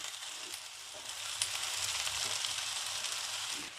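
Sliced okra fries in a hot pan with a steady, dense sizzle that holds close and fairly loud throughout, with no voices.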